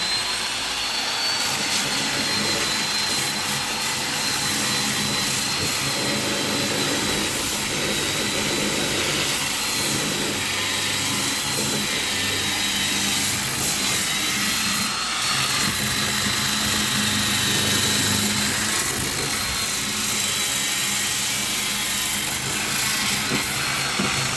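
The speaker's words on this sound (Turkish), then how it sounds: "ben oraya zımpara vuracağım" Steady, loud power-tool whine with a coarse abrasive hiss running throughout, a sander working close by on a joint of a vehicle maintenance ramp, with no talking.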